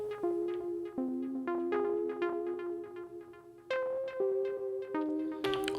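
Elektron Digitone synth pluck plays an added melody line in a techno jam, short bright plucked notes in a steady rhythmic pattern, clear and alone with no voices.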